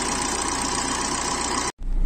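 Maruti Dzire diesel engine idling, a steady close mechanical drone with even rumble, cutting out briefly near the end before resuming.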